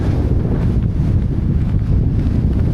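Strong wind buffets the microphone while cycling across an empty Mongolian landscape, a steady low roar and rumble with no other sounds.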